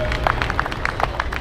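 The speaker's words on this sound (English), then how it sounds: "Big round of applause once again." Outdoor audience at a bandstand event near Iolani Palace clapping in applause, a brief burst of scattered hand claps with crowd murmur underneath.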